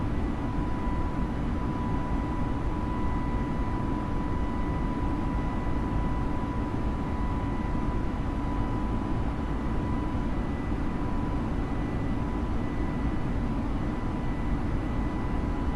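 Steady, even drone of Airbus A320 engines during climb in Microsoft Flight Simulator, a constant broadband roar with a faint steady tone, no talking.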